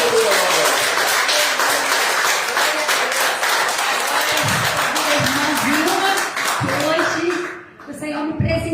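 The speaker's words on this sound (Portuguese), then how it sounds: "Vamos dar uma salva de palmas bem forte para o nosso Deus" A church congregation at a Sunday service claps loudly and densely in a sustained burst, while voices talk and call out over the applause as it thins toward the end.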